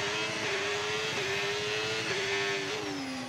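Race car engine in a racing video game, approaching the last corner of a circuit in Hungary, gives a steady high-pitched whine with brief dips at gear changes before the pitch drops toward the end.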